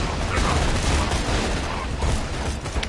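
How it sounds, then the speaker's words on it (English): Dense, loud gunfire and explosions roar continuously in a sustained, chaotic wall of blasts and crackling bursts, with no voices. "guns are blazing and explosions are going off"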